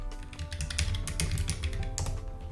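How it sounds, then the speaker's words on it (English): Rapid clicking of keys on a computer keyboard as a command is typed, a steady close run of taps with no talk over it. "we're just going to type Testkube init"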